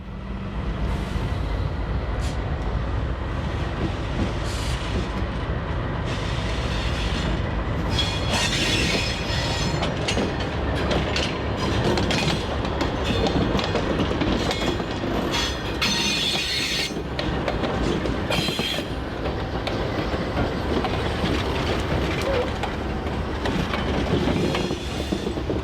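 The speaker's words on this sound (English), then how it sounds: "The locomotives were repositioned for the return trip by coupling onto the opposite end of the empty" Freight locomotives haul a string of empty covered hopper cars on the Nashville & Eastern Railroad, a loud, continuous rumble with rhythmic wheel clatter and intermittent squealing of wheels, close by and with no talking.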